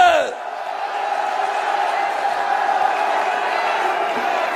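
Cheering and clapping from a large crowd at a political rally, a dense, steady roar after a speaker's voice fades out at the opening.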